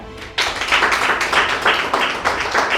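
A burst of clapping starts abruptly and continues steadily for a few seconds, sounding like a small group applauding nearby.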